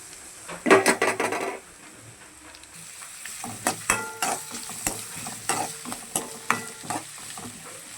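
Onions and garlic sauté in hot oil in a heated pan, with a sizzle under sharp scraping stirs of a spoon against the pan, one busy burst early and then a run of separate stirring strokes, with no talk.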